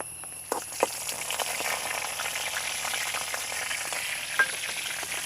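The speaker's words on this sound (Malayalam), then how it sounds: "4 ഉണക്കമുളകാണ് ഇതിൽ മുറിച്ചിടുന്നത്. മുളകൊന്ന് മൂത്ത് വരട്ടെ." Four cut dried red chillies fry in hot oil with a continuous close sizzle, broken by a few sharp pops and spatters near the start and again toward the end, with no voices.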